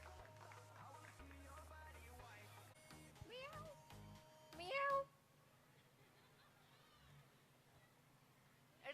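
A person imitates a cat's meow with a few short, tonal, wavering cries during an interactive parent-child game at a school annual function, heard amid hall murmur and some talking.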